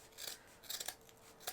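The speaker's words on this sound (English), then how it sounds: "I'm just gonna go ahead and cut our little tails" Scissors snip ribbon tails on a front door decoration in a few quick, close, quiet cuts with short rasping blade sounds.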